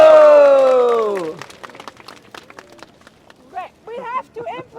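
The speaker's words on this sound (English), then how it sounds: "I want you to applaud for yourself for being here today" A small crowd at a street demonstration claps in scattered, uneven bursts after a drawn-out vocal cry, and voices start up again near the end.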